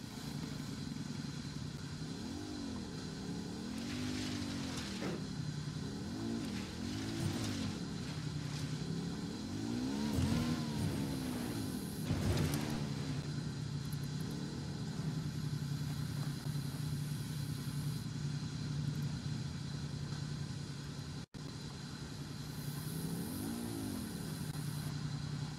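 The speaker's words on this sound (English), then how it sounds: "I'm taking the bike." A motorcycle engine in Ghost Recon Wildlands revs up and down repeatedly, with rising and falling pitch sweeps over a steady droning idle, loud and close throughout with no talking.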